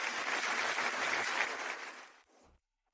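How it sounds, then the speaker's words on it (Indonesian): Audience applause for a designer at a competition, a brief burst of dense clapping that fades out and stops after about two and a half seconds. "Tepuk tangan."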